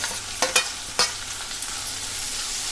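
Onion dropped into hot oil for a Marathi fasting-day sheglachi (drumstick leaf) vegetable, giving a soft steady sizzle with a few brief stirring clinks near the start.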